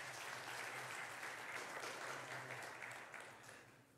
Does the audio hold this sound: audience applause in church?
yes